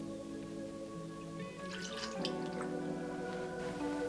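Orange juice trickles softly into a small saucepan of cranberries, a faint, quiet liquid pour with a few drips over a low background hum.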